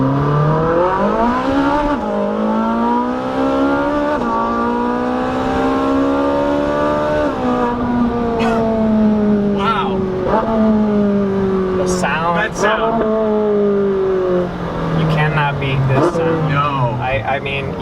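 A supercar with a double-clutch transmission accelerates hard, its loud, close engine note climbing steadily and dropping back with each quick gear change over a long run.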